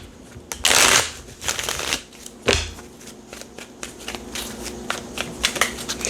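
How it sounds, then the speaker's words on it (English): Tarot cards are shuffled up close in a crisp burst of riffling, then several cards drop with light slaps, followed by scattered soft card handling and taps. "That is way too many cards to be dropping."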